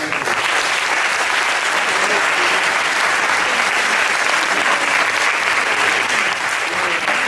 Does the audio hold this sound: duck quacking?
no